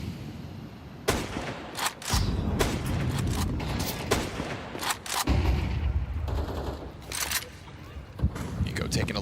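Scattered pistol shots in a Counter-Strike 2 match at a StarLadder Major, sharp cracks popping irregularly amid game noise while a caster talks over the action.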